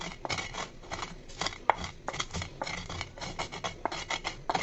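Spices are ground by hand in a mortar with slow, coarse strokes for a raw mango sweet, giving repeated scraping and rasping rubs with small knocks, moderately close and quiet, and no voices.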